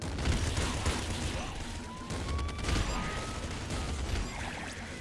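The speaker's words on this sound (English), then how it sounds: "The boom, boom, cannon." Rapid cannon blasts and explosions from the Nuclear Throne Ultra Mod boom cannon, a dense, continuous barrage of crackling bursts with repeated peaks throughout and no pause.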